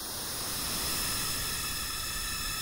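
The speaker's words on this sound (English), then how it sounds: "Okay, back to white noise again." Broadband white noise passed through a short delay effect makes a steady, dense hiss with faint comb-like ripples, holding constant and even for the whole stretch with no voice.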